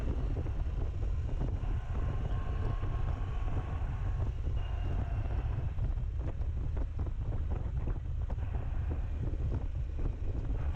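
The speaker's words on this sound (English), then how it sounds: "I'm still getting a little wind on my hands" Steady low wind roar buffets the microphone while riding a Harley-Davidson Pan America motorcycle, constant and rumbling throughout with faint engine and road noise beneath, no talking.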